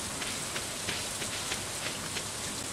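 Steady rain falls in Stardew Valley, a dense, even patter of drops on the ground that stays constant and close, with no voices.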